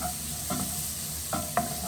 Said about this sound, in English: So I'm going to just cook my onions first,